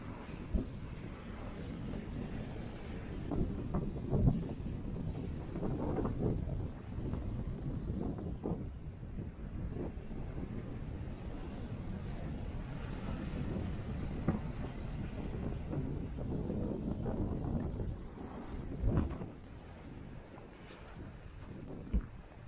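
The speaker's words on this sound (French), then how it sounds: "Il y a du vent." Steady wind buffeting the microphone at Weird Beach near Sooke, with a low roar and gusty rumble that stays loud throughout, and surf faintly beneath it.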